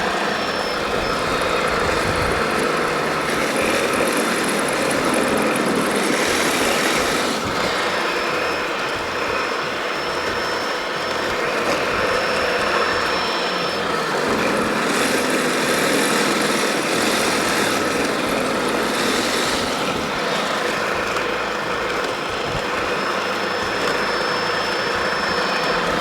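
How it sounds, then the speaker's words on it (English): Ryobi 40-volt 20-inch brushless cordless snow blower (RY40801) clearing a driveway: a loud, steady electric motor whir and auger churn runs throughout with no talk, swelling slightly in places as snow is thrown. "We're going back to the blower. Finish off this driveway."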